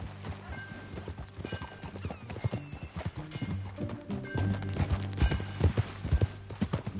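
Horse hooves clip-clop in a steady, rhythmic gait in Red Dead Redemption 2, close and clear, with a low musical drone beneath.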